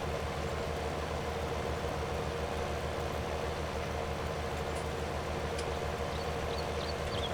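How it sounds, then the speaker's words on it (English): A tractor engine in Farming Simulator 19 runs at a steady, loud, low drone, constant throughout and heard on its own. "This tractor will be running up and down the fields, collecting bags."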